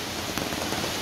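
Steady rain pours down in a continuous, even hiss with scattered drops hitting surfaces nearby, no voices over it.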